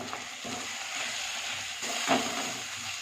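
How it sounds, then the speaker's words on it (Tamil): Spice powders stirred into brinjal poriyal frying in a pan, a steady soft sizzle with faint scraping strokes underneath, close and quiet, no voices. "மல்லித்தூள், மிளகாய்த்தூள், கறி மசால் தூள், மஞ்சள் தூள் இதெல்லாம் போட்டு ஒரு கிளறி விட்டுக்கலாம்."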